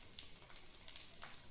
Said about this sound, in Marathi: त्याचं पहिले तेल घ्यायचं आणि ह्या लसणावर टाकायचं. म्हणजे लसूण लसणाला छान फोडणी बसते.